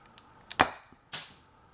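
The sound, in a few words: homemade gas-powered BB sniper rifle firing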